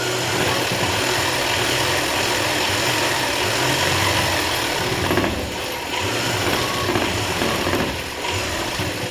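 A sewing machine runs steadily while stitching a government school uniform, its continuous mechanical whirring and clatter filling the whole stretch, loud and close, with no talking.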